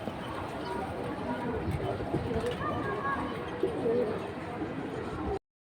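Pigeons coo softly amid a busy background of voices and shuffling noise at a pigeon market, their low murmuring calls partly buried under the talk.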